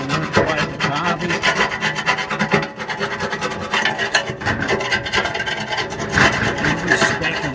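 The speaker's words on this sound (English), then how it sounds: "I'll finish scraping this roughly" Continuous rough scraping as residue is worked off a Honda S600 fuel tank part, loud and close, with uneven rasping strokes and short pauses, no talking.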